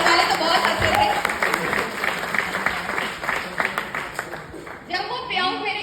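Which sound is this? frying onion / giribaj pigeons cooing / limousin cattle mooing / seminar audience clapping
seminar audience clapping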